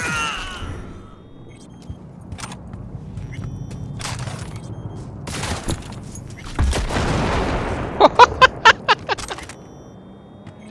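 Gunfire in the video game Cyberpunk 2077: scattered single shots, then a roaring blast, then a quick burst of several loud shots near the end, all over a low ambient rumble.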